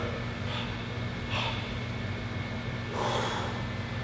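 Breathing during an ab exercise: a few audible breaths and snort-like exhales at irregular intervals, fairly close, over a steady background hum.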